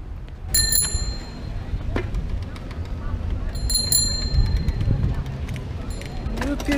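A bicycle bell on a tandem bike riding along a beach boardwalk rings bright metallic dings in two short clusters, close and clear over rolling wheel noise and wind, with people talking.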